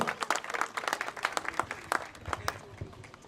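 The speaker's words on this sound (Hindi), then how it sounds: "ताली बजा दो भाई" Scattered, fairly faint clapping from the audience at a party members' convention in Lahore, with individual claps audible in an uneven patter and some background voices.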